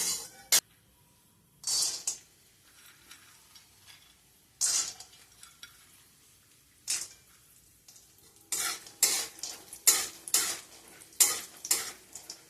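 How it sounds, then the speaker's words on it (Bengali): Peanuts frying in hot oil and ghee in a pan, with sizzling bursts and intermittent stirring scrapes, sparse at first, then denser and louder toward the end. "তেল আর ঘি ভালো মতো গরম হয়ে গেলে এতে আমি চীনাবাদামটা দিয়ে দেব।"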